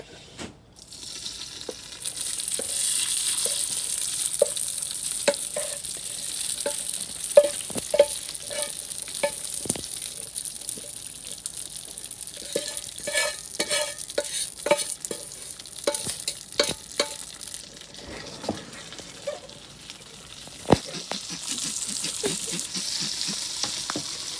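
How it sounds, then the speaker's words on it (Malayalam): Roasted coconut stirred into a frying Kannur-style kootu curry, a steady soft sizzle under repeated scraping and clinking of a spoon against the pan, close and continuous, with no speech. "ഇനിയിപ്പം ഇത് നമ്മൾ നമ്മുടെ കൂട്ടുകറിക്കകത്തോട്ട് ചേർക്കുവാണ്."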